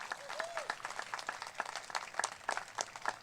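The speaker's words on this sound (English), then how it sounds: "join me really quick in a round of applause for the men and women of the Los Angeles County" Applause from the crowd at the 50th Annual Let Freedom Ring Ceremony for the Los Angeles County Sheriff's Department, scattered hand claps that sound moderately close under a faint murmur of voices.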